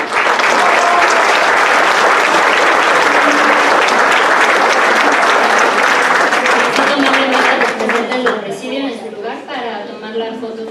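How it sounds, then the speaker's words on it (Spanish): Loud, sustained audience applause at the inauguration of the 6th International Nursing Congress, sending off the guests; dense clapping that holds strong for most of the clip before thinning out toward the end, with a voice emerging underneath. "demos un fuerte aplauso para despedir a nuestros invitados"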